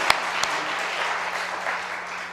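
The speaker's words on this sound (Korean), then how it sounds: "이 시간 박수로 다 같이 하나님께 영광의 박수를 드리겠습니다." A church congregation claps together at a Wednesday night worship service to glorify God, a short burst of dense, steady applause close by, opening with a couple of sharp claps.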